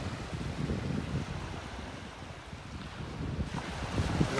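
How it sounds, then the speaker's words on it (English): Wind gusts across a beach in North Naples, Florida, a steady low rumbling buffet on the microphone mixed with the wash of calm surf nearby, with no talking. "Feels like the wind's hit me in the back now."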